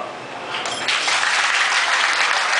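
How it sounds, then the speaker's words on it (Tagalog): A sitcom studio audience breaks into applause: quiet at first, then clapping swells in about a second and holds as a steady, fairly loud wash of hands until the end. "Palakpakan lang, hindi hihiyaw."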